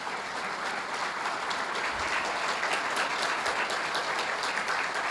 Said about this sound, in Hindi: जरा उनकी ताली बजा दीजिए, उनका स्वागत करिए।